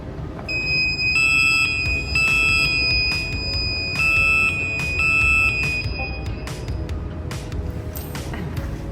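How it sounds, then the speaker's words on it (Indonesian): A manually activated home security buzzer sounds in steady, piercing tonal beeps over a noisy room background, repeating for several seconds before cutting off. "jika si owner rumah ingin mengaktifkan buzzernya jika terjadi sesuatu, bisa diaktifkan secara manual juga"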